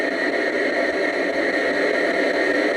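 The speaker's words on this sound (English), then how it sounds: "through this device, through this box, through the white noise" A spirit box device gives off steady white-noise static, loud and unbroken throughout, with a faint engine-like hum beneath and no voices.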